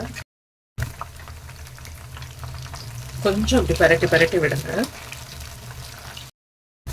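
Mushrooms fry in a pan of oil for mushroom pakoda, a close, crackling sizzle that surges and bubbles in the middle while someone speaks over it, with brief silent gaps at both ends.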